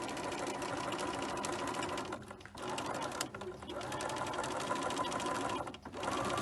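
A sewing machine runs steadily as it stitches around an oval shape about 5 millimetres from the edge, its fast, even whirring broken by two short pauses.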